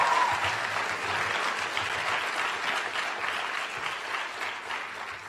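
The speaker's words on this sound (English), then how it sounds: "Please give a round of applause for Emily." Sustained applause from an audience at a high school senior recognition night, honoring a graduating senior; steady, dense clapping fills the whole stretch without a break, moderately loud and even.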